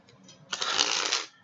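Playing cards handled in a cardistry flourish: a soft rustle, then a loud, close burst of riffling and flicking that runs for under a second before cutting off.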